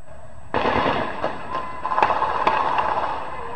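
Gunfire in a shootout in the Vila Ipiranga community of Niterói, Brazil, crackling as a series of sharp distant shots over the muffled thump of baile funk music.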